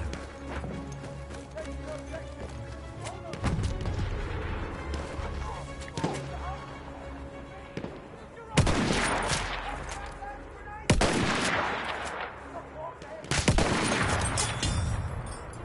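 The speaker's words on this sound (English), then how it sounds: "Wait for the enemy artillery barrage to stop firing." Battlefield 1 combat: distant gunfire crackles under a rumbling backdrop, then three heavy, booming artillery blasts land several seconds apart, each a loud broadband burst with a trailing rumble.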